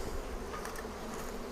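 A dense, steady buzz of many honey bees swarms around an open Flow Hive after smoking on a damp day, close and continuous with no talk.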